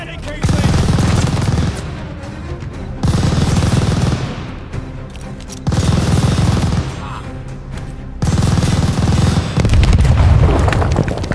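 Heavy machine gun fire in a WWII video game set during Operation Tonga, four long loud bursts of rapid booming shots separated by short lulls, close and powerful.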